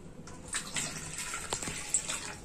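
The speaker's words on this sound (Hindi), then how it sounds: "सो मैंने पैकेट डाल दिया है और अभी पानी डालेंगे।" Water pouring into a cooking pot holding packet soup mix in a home kitchen, a soft steady splashing gush lasting a couple of seconds, fairly quiet and close.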